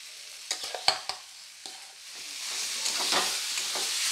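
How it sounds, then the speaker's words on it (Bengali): A potato, carrot and beet filling fries in oil, beginning with several sharp scrapes of a spatula in the pan, then giving way to a rising, continuous sizzle. "এবার বেশ ভালো করে একটু আলুটাকে তেল দিয়ে বেশ ভালো করে একটু কষিয়ে নিচ্ছি"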